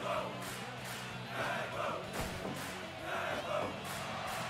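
A wrestling crowd at a live show roars and cheers in sustained waves, swelling and easing over several seconds, with a few bellowed shouts rising out of the steady din.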